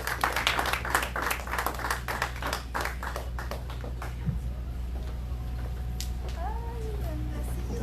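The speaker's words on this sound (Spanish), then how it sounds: "Dale un aplauso fuerte a Jesús" A church congregation claps rhythmically for several seconds during a worship service, then the clapping fades into room noise with a low hum and a few faint squeaky sounds.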